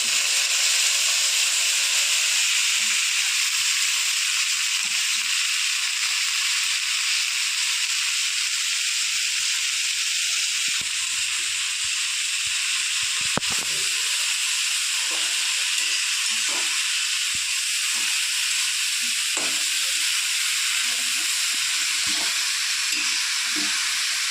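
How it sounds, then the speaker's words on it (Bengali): Nate (amaranth) greens frying with cumin, chopped garlic, green chilli and dried red chilli in a pan, a loud, continuous hissing sizzle close by with occasional stirring. "আমার মশলা ভাজা হয়ে গেছে এবার আমি শাকটা নোটে শাকটা দিয়ে দেবো"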